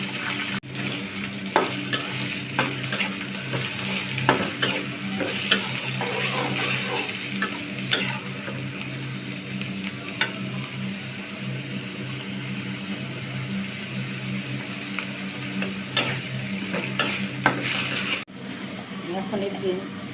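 Onions fry in hot oil with ginger paste, chili and turmeric, a dense continuous sizzle broken by frequent scraping clicks of a spoon stirring the pan.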